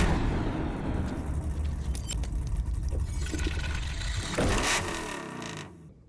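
A twin-turbo Sonny Leonard Hemi jet boat engine of about 1,700 horsepower runs steadily with a dense, loud roar and mechanical whine, rising briefly near the end before cutting off to near silence.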